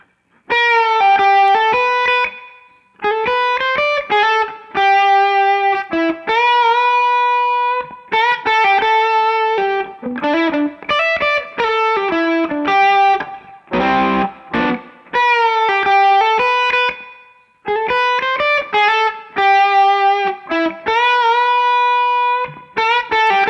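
An electric guitar plays through an overdrive pedal with reverb, phrases of sustained, gritty notes separated by brief pauses.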